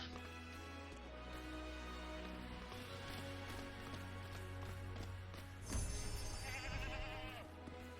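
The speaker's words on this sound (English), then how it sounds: "That is a skeleton, and that is a goat." A goat in LEGO Worlds gives a faint, short bleat set against steady background game music, with no talking over it.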